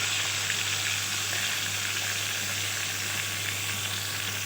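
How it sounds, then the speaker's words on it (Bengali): Pieces of shol fish (snakehead) frying in hot mustard oil, producing a dense, even sizzle that holds steady throughout over a low electrical hum, with no speech. "সর্ষের তেলটা খুব ভালোভাবে গরম করে নিয়ে একে একে মাছগুলো ছেড়ে দিচ্ছি"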